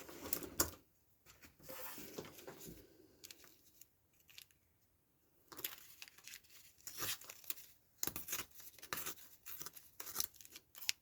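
Woven paper torn across by hand for a craft booklet, heard as several close bursts of ripping and rustling separated by quiet pauses, no talk.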